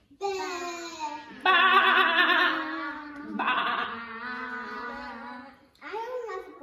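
A voice imitates a sheep with several drawn-out, wavering bleats in a row, loud and close, with brief pauses between them.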